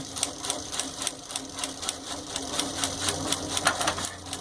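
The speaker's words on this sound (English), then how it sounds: "You can sew off the machine as long as you keep a steady pressure" A Pfaff 561 industrial needle feed sewing machine stitching through thick leather layers, a steady rapid mechanical clatter of the needle running continuously and close.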